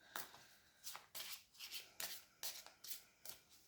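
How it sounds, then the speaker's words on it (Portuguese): Petit Lenormand cards being shuffled by hand on a reading table, a run of about eight crisp riffling bursts in a steady rhythm, close and clear with no talking. "Eu penso que hoje o Petit Lenormand já está baralhado."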